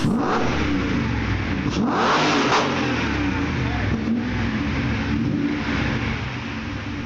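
A loud V12 car engine revs steadily and continuously, with a deep droning exhaust note rising and holding throughout.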